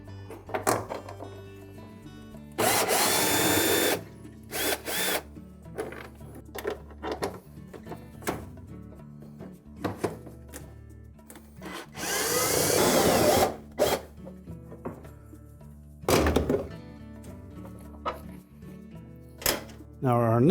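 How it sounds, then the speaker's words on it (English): A power drill removes the four bolts across the top of a Whirlpool washer tub during a tub support assembly replacement, giving several loud bursts of whirring between quieter stretches of handling and clanking. "So next we'll remove the 4 bolts across the top of the tub."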